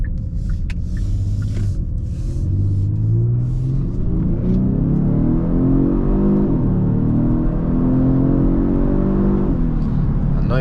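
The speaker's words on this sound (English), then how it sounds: "I know you guys hear that engine" A 2023 Genesis G70 3.3T sports sedan's engine revs and pulls hard through an acceleration run, a loud, steady rumbling drone that rises in pitch through the gears, heard from inside the car at night with no talking.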